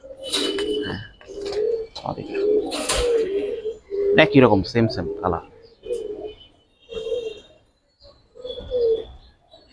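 Fighter pigeons in a loft, silver beji and red khaki breeds, give repeated low throaty coos in rhythmic bursts close by, with someone speaking between the calls.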